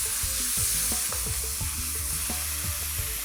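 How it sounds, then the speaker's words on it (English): Thai red curry paste sizzles in a hot pan on high heat, with crisp frying hiss under repeated scraping stir strokes close up, no voices. "I've left the heat on high. We want to try and release all the aromats out of this curry paste."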